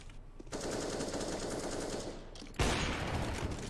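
Sustained automatic gunfire in a first-person shooter game, a dense rapid burst that runs almost without pause and gets louder and closer near the end, with no talk.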